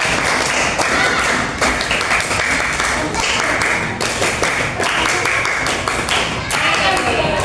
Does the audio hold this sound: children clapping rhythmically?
yes